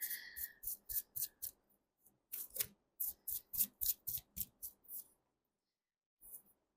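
Tarot cards are shuffled close up in quick bursts of crisp riffling flutters, a dozen or so rapid strokes in a row, then a pause and one last brief flick.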